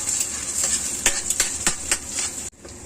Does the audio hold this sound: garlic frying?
yes